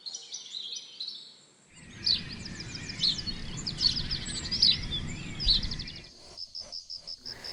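Birds sing and chirp in a forest, repeated high trills and tweets over a low steady rumble of background noise, fairly faint, with a run of evenly spaced calls near the end.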